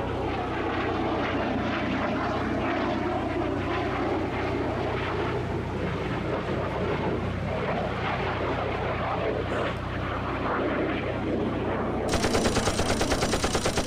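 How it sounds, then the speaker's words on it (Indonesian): A loud, steady roar from a MiG-17 jet fighter-bomber fills the whole stretch, broad and rumbling, with a sharper metallic rattling burst near the end. "Suara gemuruh itu perlahan terdengar lebih kencang. Gemuruh yang diciptakan oleh pesawat bomber pertama Indonesia"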